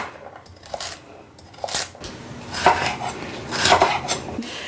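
A knife splits a jalapeno and a yellow pepper in half on a cutting board, giving a few scattered knocks and clacks over several seconds, with the sharpest hits coming toward the end.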